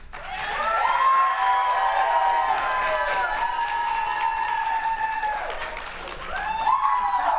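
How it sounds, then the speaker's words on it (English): A convention crowd at Gen Con applauds and cheers, a loud continuous wash of clapping with voices whooping over it, dipping briefly before rising again near the end. "All right, please applaud right now if you want to go to the panel room."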